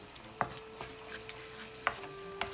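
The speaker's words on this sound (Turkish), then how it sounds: "Birkaç kere daha şöyle soteliyorum, çeviriyorum." Oyster mushrooms sautéing in a pan for a cheesy casserole, with a steady sizzle beneath a few sharp utensil clicks and scrapes as they are stirred and turned, close and moderately loud.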